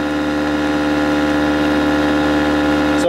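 A bucking field reluctance motor runs at steady speed, a constant loud droning hum with layered tonal whine and no change in pitch, ending with a brief click.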